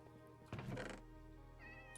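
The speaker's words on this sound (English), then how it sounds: "So many cats." Cats meowing in the video game Minecraft, one short clear meow near the middle followed by a faint higher mew, with no talk over it.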